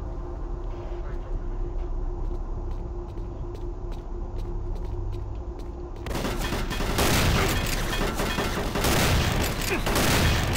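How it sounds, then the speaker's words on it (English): Gunfire in a video game is aimed at a barrel. Sparse sharp clicks give way midway to a loud, dense, rattling volley of shots that keeps going steadily. "Come on, I'm shooting that barrel"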